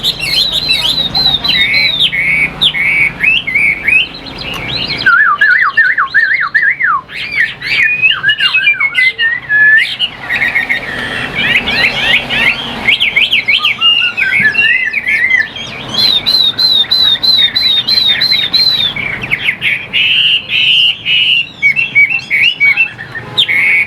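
A caged songbird kept for sale sings loudly and close, with rapid whistled trills, chirps and rising and falling phrases repeating almost continuously, broken by a couple of brief pauses.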